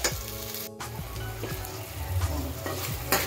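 Ground masala sizzles in hot oil in a pan for misal, a steady frying crackle interrupted by a few scraping stirs and a brief clink of a utensil, close and fairly quiet.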